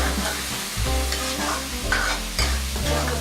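Masala spices for palak paneer with garlic and onion fry and are stirred in a pan, giving a close, continuous sizzle broken by scraping strokes of the spoon.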